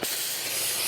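Spray bottle misting pita flatbread before it goes on a grill stone, one steady close hiss lasting about a second with no talking.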